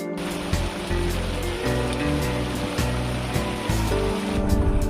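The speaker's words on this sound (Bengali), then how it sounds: "পথিমধ্যে মুসুলধারে বৃষ্টি হওয়াতে আমরা যাত্রা বিরতি করে অপেক্ষা করছি" Heavy monsoon rain pours down during a roadside stop near the Nagor River, a dense, steady roar of water that holds at the same level throughout.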